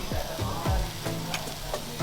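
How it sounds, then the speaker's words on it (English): Continuous sizzling and crackling of king prawns frying on a hot grill, with occasional scraping and stirring clinks, close and steady. "we're just gonna leave it there to sizzle away"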